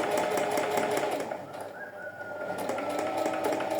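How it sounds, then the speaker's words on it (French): Sewing machine running a straight seam on fabric, a steady close mechanical whir with rhythmic stitching pulses, dipping briefly in the middle before resuming. "on va venir faire une couture droite, un petit point à l'arrêt, d'accord, petite marche arrière pour arrêter le point, et on vient piquer directement"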